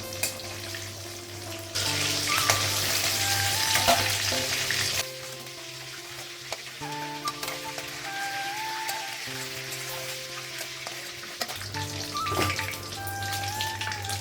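Fish fries in a pan with a steady, fairly loud sizzle that rises and drops in intensity, with occasional clinks and light clatter nearby.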